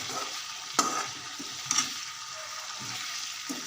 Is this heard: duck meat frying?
yes